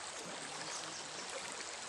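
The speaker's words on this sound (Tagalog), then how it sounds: "dito kami sa ilog" Steady, full-bodied rush of a clear river stream flowing, continuous and close, with no talk over it.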